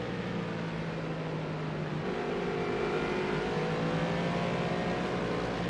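GT3 race cars, including a Bentley Continental and a McLaren 650S, drone steadily at Watkins Glen International in Project Cars, with engine tones rising and shifting as the cars run close together. No voices are heard.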